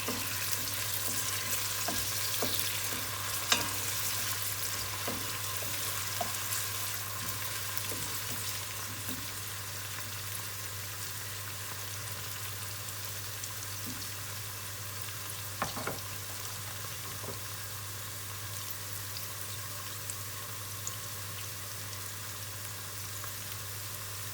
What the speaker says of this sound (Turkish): Tüm sebzelerimi tek tek soteliyorum.